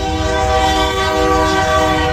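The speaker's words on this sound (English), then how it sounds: "Loads and loads of train traffic." A loud, steady multi-tone train horn blares continuously over the rumble of a passing train in a small town with heavy rail traffic, close by and with no voices.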